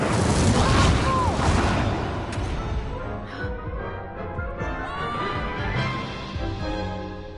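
Incendio fire spell cast in Hogwarts Legacy, a loud crackling burst of flame and impact that fades into lingering rumble, with a voice speaking over the effects.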